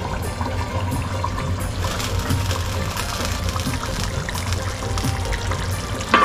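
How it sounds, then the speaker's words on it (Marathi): Water poured onto the lid of a pot of dry-style spicy chicken on an open flame, a steady trickling splash running throughout at close range with no talking. "आता आपण याचं झाकण ठेवूया. हां, आणि झाकणावर पाणी"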